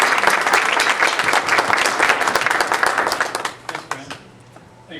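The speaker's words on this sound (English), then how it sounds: "Let's give him a round of applause." Applause from the audience at a flood forum in Calgary, a burst of many hands clapping that thins out over the last second or so, leaving a few scattered claps.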